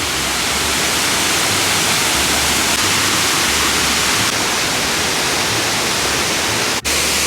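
A steady, dense roar of falling water fills the whole stretch, loud and unbroken, like standing right beside a waterfall.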